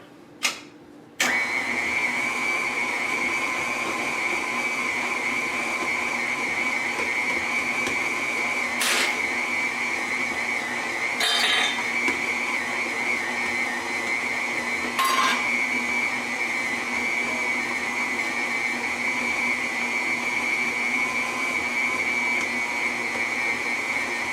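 A stand mixer runs steadily while mixing gluten-free Chicago thin crust pizza dough, starting after a short click and then keeping a loud, even motor whine with a few faint knocks, and no talking.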